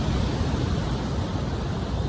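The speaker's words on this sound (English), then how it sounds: "That's the Pacific Ocean behind me" Pacific Ocean waves breaking on the coast at Pacifica, California, a broad steady wash of surf noise mixed with wind buffeting the microphone, continuous and fairly loud with no voices.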